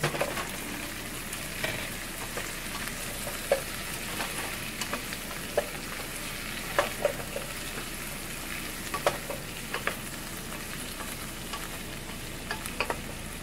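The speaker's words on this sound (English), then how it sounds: "So now I will add the pumpkin slices." Pumpkin slices frying with shrimp in a pan, giving a steady close sizzle with scattered small pops and occasional stirring scrapes throughout, and no one speaking.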